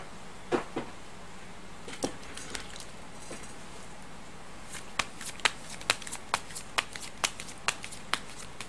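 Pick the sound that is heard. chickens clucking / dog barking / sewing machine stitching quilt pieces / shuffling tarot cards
shuffling tarot cards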